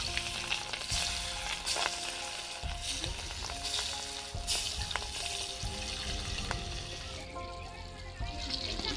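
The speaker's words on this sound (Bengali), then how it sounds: "তেল গরম হয়ে গেছে, লবণ হলুদ মাখানো মাছগুলো দিয়ে দেবো" Pangas fish coated in salt and turmeric frying in hot oil, a steady close sizzle with crackling bursts and a few scraping knocks, heard alone.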